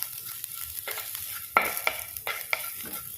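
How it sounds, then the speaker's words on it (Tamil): Garlic and ginger sizzle steadily in a hot pan while a utensil scrapes and stirs, a few sharper clinks against the pan, close and continuous. "இதை நல்லா வதக்கிக்கிடுவோம்"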